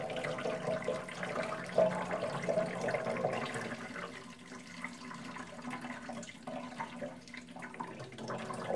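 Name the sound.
water poured into a leaking motorcycle fuel tank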